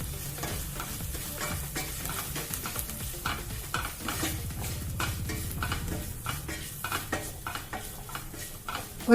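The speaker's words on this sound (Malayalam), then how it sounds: "ഒരു 3 മിനിറ്റോളം ഇതിന്റെ പച്ചമണം മാറുന്നത് വരെ നന്നായിട്ട് ഇളക്കി കൊടുത്തുകൊണ്ടിരിക്കുക" Garam masala and other spice powders fry on low flame in a pan for Kerala-style coconut chicken curry, stirred continuously with rhythmic spoon scraping over a soft sizzle, close and steady throughout.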